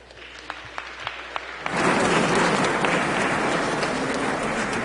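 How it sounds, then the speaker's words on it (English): An audience bursts into sustained applause after a few isolated early claps, the dense clapping rising suddenly and holding loud and even to the end, with no talk over it. "Please help me to welcome and give a big round of applause to the members"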